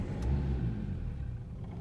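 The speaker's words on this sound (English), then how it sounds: "So it'll rev up and straight away cut out" A Saab 93 with an injector circuit fault revs up with a low rumbling surge, then its engine note drops away and trails off into an uneven idle as it cuts out, heard close with no talk.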